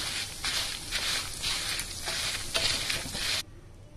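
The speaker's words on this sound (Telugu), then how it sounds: "ఆయిల్లో ఇవన్నీ వేసుకున్నాం కదండి, ఇవన్నీ చక్కగా బాగా ఫ్రై చేసుకోవాలి." Dried red chilies and spices fry in hot oil, giving a close, steady sizzle with pulsing bursts as they are stirred, then cutting off abruptly near the end.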